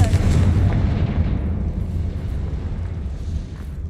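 A Confringo fire spell exploding in the video game Hogwarts Legacy, a loud deep boom that rolls off into a long, fading rumble.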